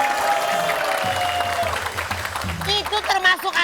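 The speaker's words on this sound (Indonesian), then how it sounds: "Tepuk tangan." A studio audience at a TV show breaks into applause, scattered claps building under a voice talking, then a denser burst of clapping at the end.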